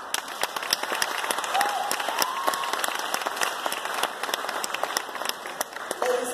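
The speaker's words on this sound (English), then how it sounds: "Let's honor our students today and give them a round of applause" Audience applause at an elementary school graduation: a steady wash of clapping from a crowd, with sharp individual claps standing out throughout and a few brief voices mixed in.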